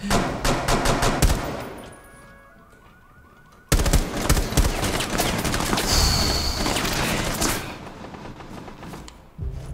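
Gunfire in Rainbow Six Siege: rapid automatic bursts of sharp shots in a dense rattling rhythm, a quieter lull, then another loud run of firing with ringing tones and scattered cracks.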